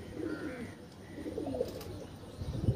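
Pigeons coo softly in a loft, low rolling calls repeating faintly over a quiet background.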